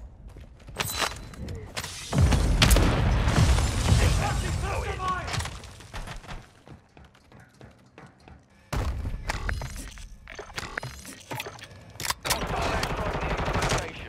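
Airstrike explosions and gunfire in a shooter video game: heavy, booming blasts and rattling automatic fire come in loud waves, with quieter gaps between them, while a player talks over parts of it.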